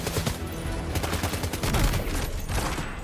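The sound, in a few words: gunfire in video game Death Stranding 2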